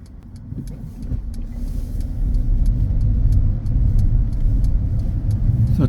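A car drives and turns left at traffic lights, a steady low road and engine rumble building slightly and holding constant, with faint ticking throughout.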